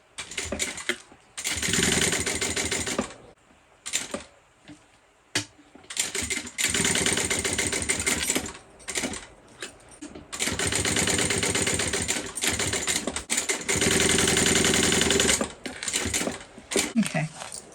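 Sewing machine top stitching pieces of a handmade bag, running in bursts of rapid mechanical rattling separated by short pauses and quieter handling.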